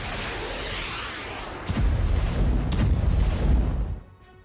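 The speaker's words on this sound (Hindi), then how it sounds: "एमएलआरएस उरागन से अटैक हुआ है।" An MLRS Uragan rocket artillery attack: a continuous heavy rumble broken by two deep, thudding booms in quick succession before the noise drops away.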